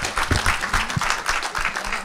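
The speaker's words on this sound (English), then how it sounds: "Please applaud." An audience at a New York African film festival screening applauds, a dense close burst of many hands clapping that carries on steadily for the full length.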